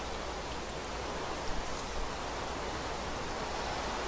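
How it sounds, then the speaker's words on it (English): Rain falling in a Minecraft modpack game, a dense, even hiss of downpour that stays loud and constant throughout with no talk. "It is always raining in this pack."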